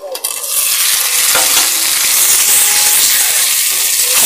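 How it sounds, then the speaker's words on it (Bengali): Boiled potatoes and fried spices stirred in a pan over a wood-fired clay stove for an egg and potato curry: a steady, loud sizzling hiss with scraping stirs throughout, no voices. "ভালো করে কষে নেব"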